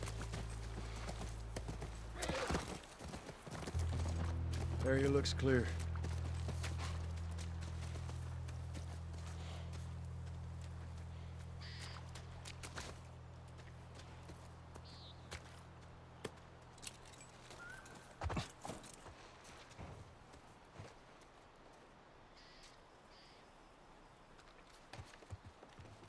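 Horse hooves clip-clop in the video game The Last of Us Part I, a steady run of hoofbeats over a low droning score, fading after a few seconds, with brief speech and scattered game sounds around them.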